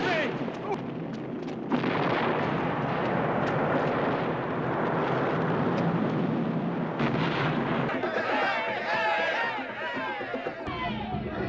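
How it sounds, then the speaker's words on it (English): Citadel blowing up in the 1976 film At the Earth's Core, a sustained roaring rumble of explosions mixed with crowd shouting, loud and dense throughout, shifting toward clamorous voices near the end. "With their citadel gone all explodey, the humans are free."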